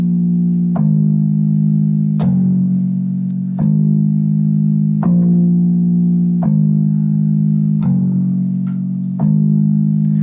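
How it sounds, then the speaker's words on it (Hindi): A simple bass guitar line played on a Casio keyboard, a loud, deep sustained note repeated in steady even phrases about every second and a half, with no voices. "तो ये हमारी बेस लाइन है, इसमें मैंने बेस गिटार को यूज़ किया"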